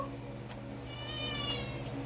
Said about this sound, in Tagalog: Miyaw pa pag kinakarga.